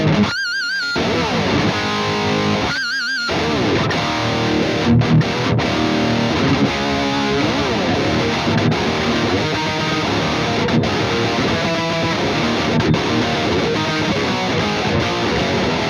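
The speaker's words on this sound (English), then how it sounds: "the 800 sort of thing, I like to push the front end with an SD1." Crunchy overdriven electric guitar through a high-gain amp, its front end pushed by a Boss SD1 overdrive pedal, playing a dense, sustained riff loud and alone, with brief gaps near the start.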